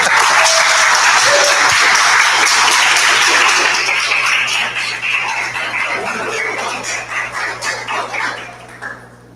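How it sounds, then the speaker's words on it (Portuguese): A church congregation claps in a burst of applause during a Portuguese-language worship service, loud at first and gradually thinning out and fading over several seconds. "uma salva de palmas para Jesus"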